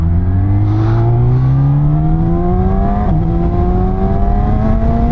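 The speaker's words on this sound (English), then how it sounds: "It's so much nicer now that I can actually hear the bike and hear what it's doing." A Yamaha R6 motorcycle with a $1,600 aftermarket exhaust pulls away on a ride, its engine note climbing steadily as it accelerates. The engine stays loud and continuous, with a brief dip partway through, and strong wind noise rushes underneath.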